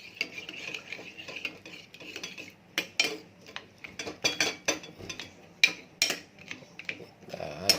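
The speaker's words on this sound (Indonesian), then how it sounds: "aduk-aduk lagi." A utensil scrapes and clacks against a pan as fried noodles with scrambled egg are stirred, producing repeated close metallic strokes in an uneven rhythm over a faint sizzle.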